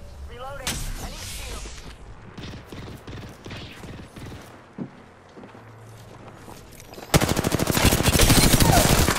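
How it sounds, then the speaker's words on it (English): Apex Legends gunfire: scattered shots and impacts with footsteps and mechanical clicks, then a loud sustained burst of rapid automatic fire toward the end. "They're shooting at me."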